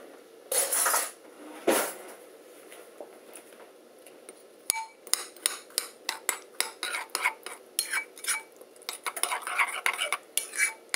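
A utensil stirs and mixes meatloaf ingredients with Worcestershire sauce in a bowl, giving a couple of scraping swishes followed by a run of quick, close clinks and knocks against the dish, with no talking.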